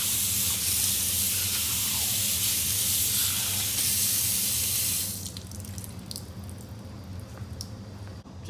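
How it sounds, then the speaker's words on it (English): A lab sink tap runs steadily as hands are washed, a loud close hiss of splashing water that drops to a quieter trickle partway through, with no talking. "don't forget to wash your hands"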